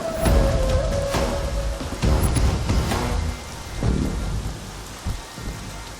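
Heavy rain pours loudly and steadily while deep thunder rumbles roll in and out; no one speaks.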